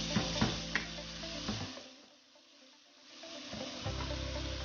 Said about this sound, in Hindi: इसके अंदर हम गोश्त डालेंगे और 5 मिनट हम गोश्त को फ्राई करेंगे